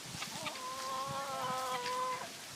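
A large rooster near a big pumpkin outdoors gives a drawn-out, wavering cluck-call lasting about two seconds, moderately close, over quiet background ambience with no talking.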